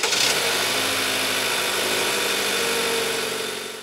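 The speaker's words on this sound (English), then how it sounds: "If you notice, these engines are pretty loud" A Toyota A25A engine runs loudly and steadily, its direct-injection high-pressure fuel pump adding a constant mechanical ticking clatter over the idle hum, close up and heard alone.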